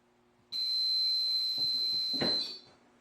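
A heat press gives a single sustained electronic beep, high and steady for about two seconds, with soft handling noises and a brief thump near its end.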